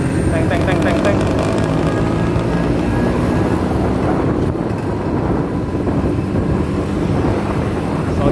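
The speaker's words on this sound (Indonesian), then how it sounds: "Vespa suaranya nyaring banget." A Vespa scooter rides through narrow alleys between Jalan Jaksa and Tanah Abang, its engine drone heavily buffeted by loud, continuous wind rush against the microphone.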